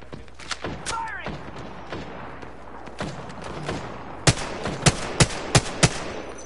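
Gunfire in the Apex Legends battle royale video game: scattered shots under busy game noise, then a sharp run of five loud, evenly spaced shots near the end.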